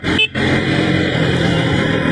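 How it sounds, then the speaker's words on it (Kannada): A KTM Duke 200 motorcycle engine roars steadily under throttle, a dense close drone with one brief dip near the start. "ಥ್ರಾಟಲ್ ಕೊಟ್ಟ ಸೀದಾ ಹಂಗೆ ನುಗ್ತಾ ಇದೆ ಗಾಡಿ"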